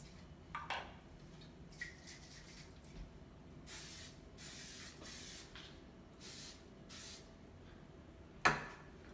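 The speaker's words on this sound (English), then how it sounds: "I need to apply no-stick cooking spray to the pan I'm going to be using." Nonstick cooking spray hisses onto a pan in a few short, quiet bursts, with faint clicks of handling before and a sharp knock of the pan near the end.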